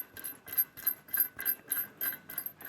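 Ratchet wrench turning a bolt with lock washer and flat washer while installing a Curt PowerRide 5th wheel trailer hitch, a steady run of about ten quick, close clicking strokes, fairly faint and without talk.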